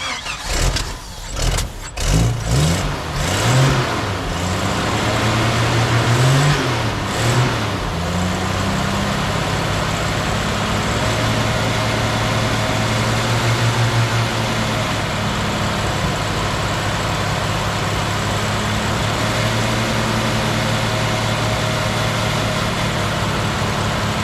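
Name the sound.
Jeep engine running, struggling to idle in the cold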